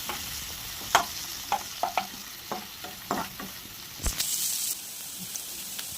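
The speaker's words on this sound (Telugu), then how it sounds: "ఇది ఫ్రై చేసిన ఆయిల్లోనే ఆనియన్స్ కొంచెం లైట్గా ఫ్రై అయిన తర్వాత" Onions fry in oil with cumin in a pan for dondakaya masala, a low sizzle punctuated by several sharp spatula scrapes and knocks, with one brief louder hiss near the end and no talk.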